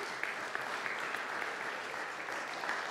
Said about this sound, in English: Yeah, you can clap that up.